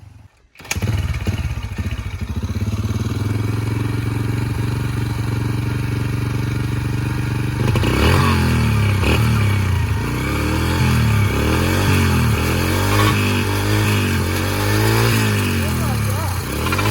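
Dirt bike fitted with an oversized rear sprocket, its engine running loud and close throughout, with steady idle-like drone then rising and falling revs in repeated surges, voices talking over it.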